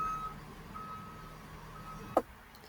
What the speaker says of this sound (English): There was a big giant truck.